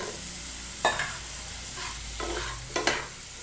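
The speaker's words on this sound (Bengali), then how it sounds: "তো কেটে রাখা আলুগুলো দিয়ে দিচ্ছি।" Cut potatoes go into a pan with beans, marked by a few distinct clattering drops and scrapes against a low background hiss of cooking.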